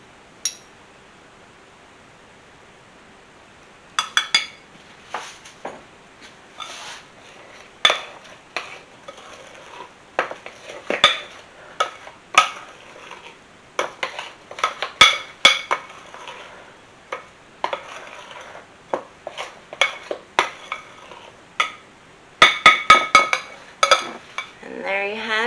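Spoon scraping and knocking against a bowl while pumpkin bread batter is stirred, irregular clinks and scrapes that grow busier after a quiet start and continue for about twenty seconds.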